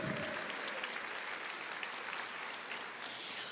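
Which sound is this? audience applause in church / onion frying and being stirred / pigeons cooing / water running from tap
audience applause in church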